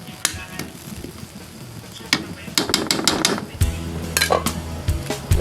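Banana blossom stew in hot water being stirred in a metal pot, with close scraping and clinking of a utensil against the pot in irregular strokes, a few sharper knocks near the end.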